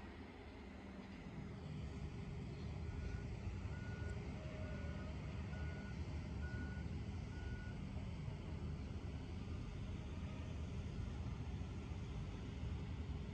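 A dump truck at a Manila Bay reclamation site in Pasay gives a steady run of evenly spaced reversing beeps. They sound faint and distant over a constant heavy rumble of engines and wind.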